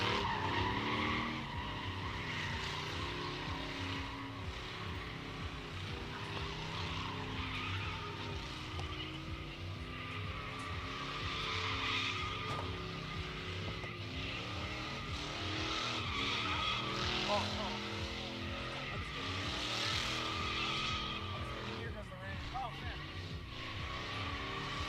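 A car drifts at a drift pit test-and-tune day, its engine revving hard while the rear tires skid and squeal continuously. A voice talks over the sustained tire noise and engine roar.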